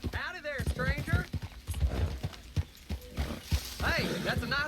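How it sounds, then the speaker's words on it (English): Hooves clip-clop steadily with a horse neighing and whinnying, all underneath ongoing speech, with music or game ambience in the background. "that's a nice looking horse you have there"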